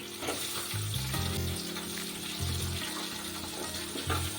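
Chopped ivy gourd fries in oil in a pan, a steady close sizzle running throughout, while a low hum pulses underneath.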